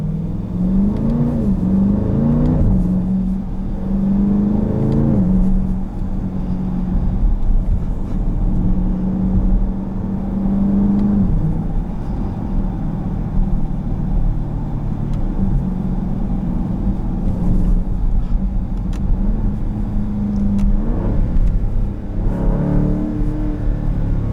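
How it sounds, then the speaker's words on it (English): A 2018 Dodge Durango SRT 392 engine heard from inside while driving, a loud continuous deep rumble that swells into rising revs early on, then settles into a steady drone. "this Durango is, I think, the best FCA product I have ever driven"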